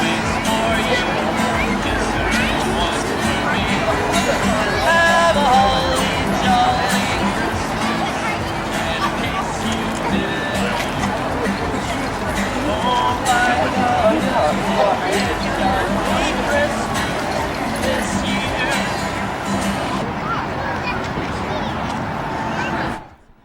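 A large crowd at the Austin Trail of Lights Christmas festival at night fills the air with a steady babble of chatter and footsteps, close and continuous.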